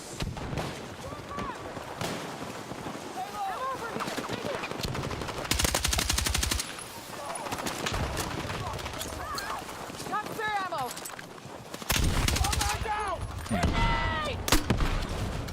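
An AK-205 rifle in Battlefield 6 fires in rapid automatic bursts, with distant gunfire around it, while a player talks over the action.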